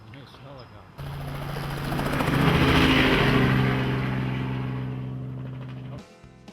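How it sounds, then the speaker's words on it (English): A helicopter flies low in a TV chase scene from Collier & Co. Hot Pursuit. Its rotor roar kicks in abruptly, swells loud and close, holds steady, then cuts off near the end. "Now you hear the helicopter."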